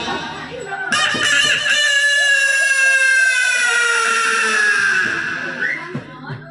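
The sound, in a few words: storyteller imitating a rooster crowing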